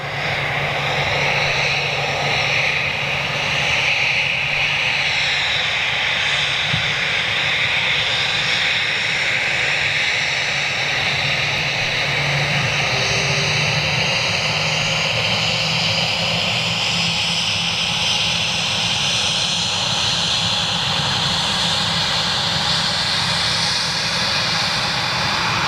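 A Lufthansa airliner taxiing on an active taxiway at Manchester Airport gives a loud, steady jet engine whine and roar that slowly shifts in pitch as it passes close by, with no talking.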